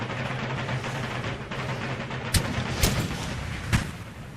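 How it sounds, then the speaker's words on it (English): Cannon fire in the Empire Total War video game battle at Stuttgart, several sharp booming shots over a constant loud rumble of battle, spaced about half a second to a second apart. "Fire on cannon."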